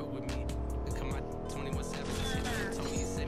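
Truck engine droning and tires rolling in the video game Fortnite, a steady low motor hum with occasional squeals, heard under talking players.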